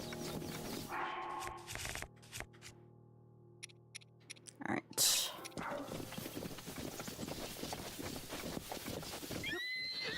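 A horse in the video game Breath of the Wild whinnies loudly, followed by scattered clip-clop hoof sounds and clatter, with a sharp burst midway and faint background noise throughout.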